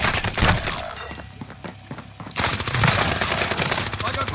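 Rapid bursts of automatic gunfire in Call of Duty: Modern Warfare, loud and close, with a brief lull in the middle before sustained firing resumes, mixed with in-game voices.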